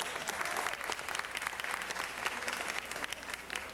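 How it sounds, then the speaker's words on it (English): Round of applause at a city council meeting for an honoree receiving a certificate; even, continuous clapping from a room of people, moderately distant and fairly quiet. "Let's give him a round of applause"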